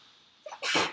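A single close sneeze: a brief sharp inhale followed by a loud explosive burst, heard alone against near silence.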